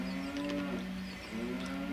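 Cow mooing in the video game Zelda: Ocarina of Time, a sustained low bellowing moo lasting the full two seconds with a brief dip midway, loud and close with no talking.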